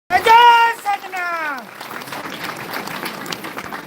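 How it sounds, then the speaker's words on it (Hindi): Applause from a crowd at a live Ram Katha religious gathering follows a loud voice, a broad steady patter of clapping that carries on at moderate loudness to the end. "एक बार ताली बजा दिया जाए।"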